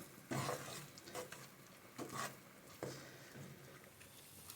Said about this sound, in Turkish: 2 kaşık kadar da tereyağı koyduk. Karıştırmaya devam ediyorum.